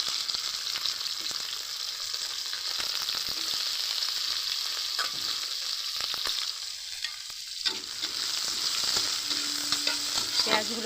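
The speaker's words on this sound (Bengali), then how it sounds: "পেঁয়াজগুলোকে ভালো করে আমি লাল লাল করে কিন্তু ভেজে নেব।" Chopped onions fry in hot oil with bay leaves and whole dried chillies, a steady close sizzle broken by scraping stirs, with no voices.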